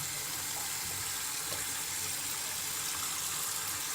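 Lukewarm water runs steadily from a tap, rinsing shampoo out of a hair topper; a continuous, fairly close broadband splash with no break and no talking.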